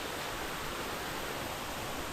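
A tiered waterfall at Kohoj fort pours in a steady, unbroken broadband rush, close and loud, with no voices.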